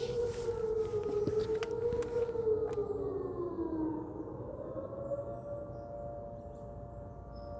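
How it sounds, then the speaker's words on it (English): Fire sirens in Westmoreland County, Pennsylvania wail across the area, a loud rising and falling tone that slowly winds down, with a second siren overlapping at a distance. "That is a lot of sirens."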